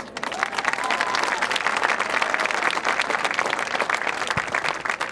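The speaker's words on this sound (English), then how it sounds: "let's give one more big round of applause to our senior class for 2016" Sustained, dense applause from a stadium audience honoring senior women's soccer players at a college senior day ceremony, steady and loud throughout with crowd noise mixed in.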